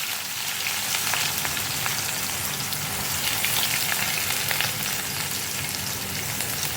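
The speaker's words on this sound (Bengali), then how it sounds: "ভালো করে পেঁয়াজটা ভাজবো।" Chopped onion fries in hot oil seasoned with cumin seeds, giving a dense, even sizzle that holds steady and fairly loud from start to finish, with no talking over it.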